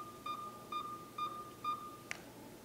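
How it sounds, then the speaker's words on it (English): A dash cam being reset gives four evenly spaced electronic beeps, clear and close in a quiet room, followed by a short click. "Once you hear those five beeps, the system will start the process of restarting."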